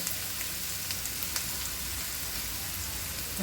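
Chickpea curry sautéing in a pan, a steady dense sizzle running throughout at even loudness with small crackles popping through, no voices over it.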